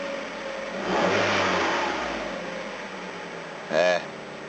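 A V12 car engine revs while driving after its valves were reseated, a rising surge of engine noise early on that eases off, then a short sharp burst near the end, heard from inside the car.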